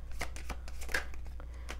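A deck of tarot cards is shuffled by hand, a quick run of papery riffles and flicks close by, with no talking over it.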